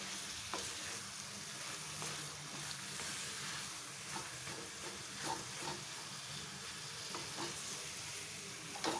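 Minced mutton keema frying with masala in a pan, a soft steady sizzle and hiss with occasional scraping stirs of a utensil, faint and continuous with no voices.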